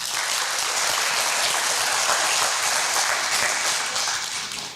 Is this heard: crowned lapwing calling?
no